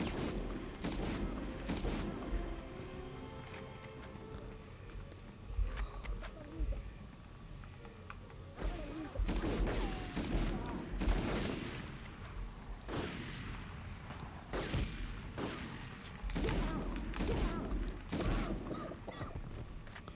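Enemy gunfire in the PS1 video game Medal of Honor, with sharp shots cracking in irregular bursts and volleys over a steady background of game ambience, and a voice speaking faintly underneath.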